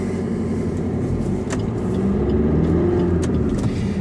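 A 2017 Suzuki Vitara with a 1.6-litre turbo diesel engine, cold from standing, pulls away, its engine giving a loud, steady low rumble close by with a few faint clicks over the top.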